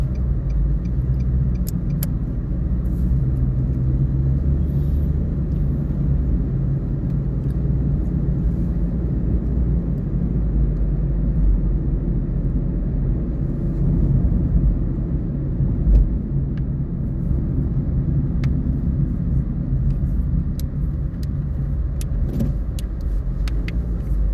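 Car engine running steadily during a driving lesson, a continuous low rumble that holds at an even level throughout with no voices heard.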